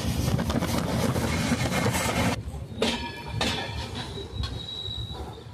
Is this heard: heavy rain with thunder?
no